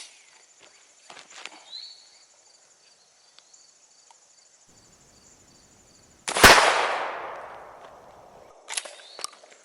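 A Stoeger M3000 shotgun loaded with #8 shot and a .7 choke fires once, a sharp loud blast with a decaying tail, amid quiet outdoor ambience with insect chirps and faint footsteps before and a click after.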